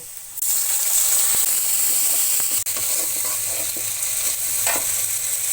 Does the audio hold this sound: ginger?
yes